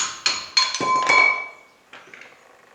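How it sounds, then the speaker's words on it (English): Several sharp metallic taps from a copper hammer striking a Land Cruiser 79 steering knuckle, irregularly spaced, each ringing briefly before dying away. "It needs a bit of tapping from the copper hammer to come off"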